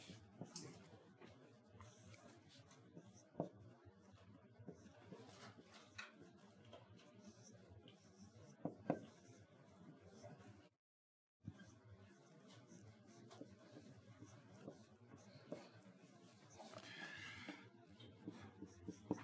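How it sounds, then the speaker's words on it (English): A pen or marker writes out a heat transfer equation on a board or tablet, scratchy strokes and taps going on for a long stretch with a brief silent gap, quiet and close, no voices. "I'll write the equation down first"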